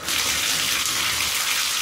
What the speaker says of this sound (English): I'm running this water real hot at first.